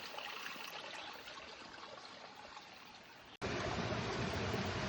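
Water in a stream along the Makiki Valley Trail in Hawaii runs with a faint, constant hiss at night, then turns louder and closer after an abrupt cut partway through.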